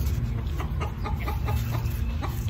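Chickens cluck steadily nearby in a garden setting, a busy run of short, repeated clucks with no one talking.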